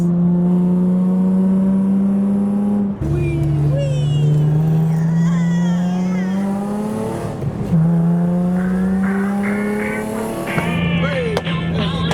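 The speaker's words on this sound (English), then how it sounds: "The Civic's popping flames like fireworks." At a large UK JDM car show, a Honda Civic's exhaust pops and spits flames as the engine revs loudly and close by. Rising pitch sweeps are broken by a few short crackling bursts.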